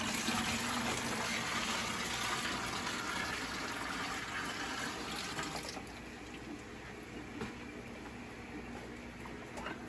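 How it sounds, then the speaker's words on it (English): RO water is poured from a pail into a grow tent reservoir, making a loud, continuous gushing splash that eases to a lighter trickle partway through. "So we're gonna pour in about a half pail."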